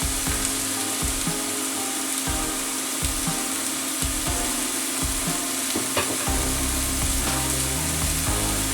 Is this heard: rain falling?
no